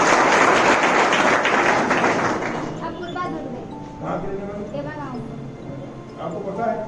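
An audience at a gathering of young blood donors claps loudly for a few seconds, then the clapping fades and someone speaks over the room.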